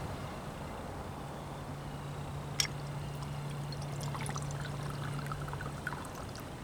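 A steady, quiet trickle of brandy poured through a ball pour spout for several seconds, with a faint low hum and a sharp tick of the spout's ball partway through.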